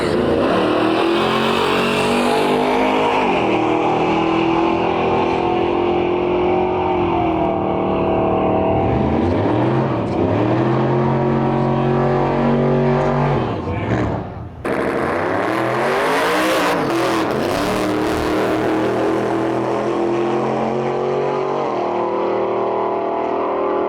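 Drag and Drive cars at Sick Week roar loudly down the drag strip, with rising engine pitch through the gears, a sharp break in the middle, then another car blasting off and fading into the distance.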